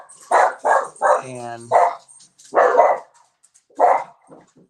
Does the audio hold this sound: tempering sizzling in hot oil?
no